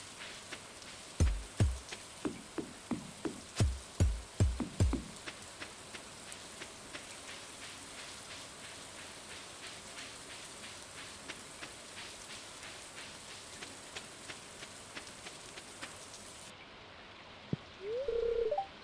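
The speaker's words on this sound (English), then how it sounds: "warm rain is a pleasant way to get clean" Soft, steady rainfall patters throughout in the farming video game Stardew Valley, with a few louder low thumps near the start and a brief tonal chime near the end.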